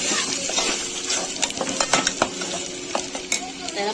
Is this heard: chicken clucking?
no